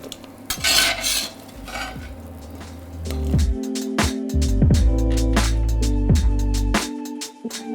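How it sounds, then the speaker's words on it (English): Metal spatula scraping and clinking in an oiled pan as fried chorizo is lifted out, leaving the oil behind, with a few bright scrapes and taps over a soft sizzle, close and fairly loud. "I'm using a slotted spoon or a spatula to get that off, to leave the oil on the pan and the chorizo out."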